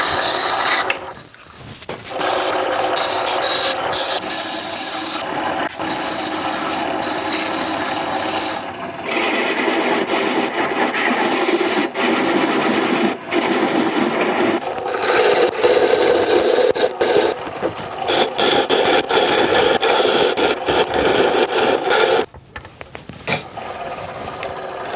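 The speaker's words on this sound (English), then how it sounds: "And then I'll go ahead and touch up the inside with some sandpaper." Sandpaper rubbing the inside of a turned wooden lidded box spinning on a lathe, a continuous close rasping scrape broken by brief pauses over about twenty-five seconds.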